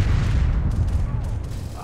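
Heavy tank cannon blasts and gunfire from a realistic PC war game roll together into a loud, continuous low rumble of overlapping booms, with no voices over it.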